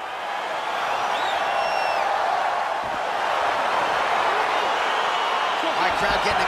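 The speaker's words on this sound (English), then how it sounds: "crowd getting excited as this fight gets underway" A crowd roars steadily as a fight begins in EA Sports UFC 4, a broad, sustained cheer with a few whoops, while a commentator talks over it.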